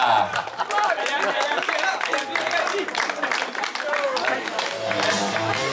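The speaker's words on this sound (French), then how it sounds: "on l'applaudit, Pascal." Steady crowd applause with scattered cheering at a cycling race podium ceremony in La Rochelle, France, continuous and fairly loud throughout, with a voice talking over it.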